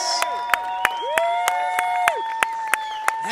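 Spectators at the Alaïa Bay Open Winter Cup 2022 surf competition finals cheer and whoop for the juniors, sustained loud crowd noise with rising shouts and steady rhythmic clapping throughout.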